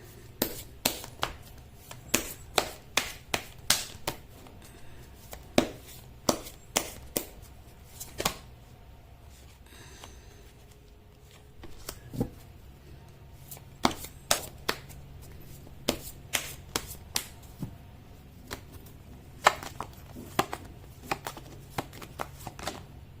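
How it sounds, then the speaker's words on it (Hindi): Tarot cards being shuffled by hand for a reading, a long run of crisp, rapid riffling bursts and snaps in irregular clusters, close and clear with a brief quieter lull midway and no talking. "मैं कर लेती हूँ कार्ड की शफलिंग"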